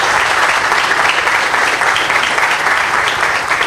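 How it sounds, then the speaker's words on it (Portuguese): Crowd applause at an assembly event marking the start of road duplication and restoration works, loud and steady dense clapping that holds without a break throughout. "eu peço uma salva de palmas para o nosso presidente"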